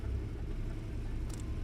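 A car engine in Euro Truck Simulator 2 rumbles and whirs close by as it approaches, a steady low drone with a brief higher whine near the end.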